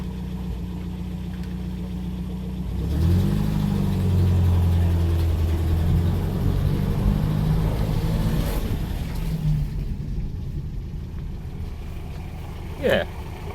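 A 1955 Austin A40 Cambridge is driven and pulled up into second gear, its engine droning nearby and climbing in pitch as it gathers speed, with a voice briefly over it and a short squeal near the end.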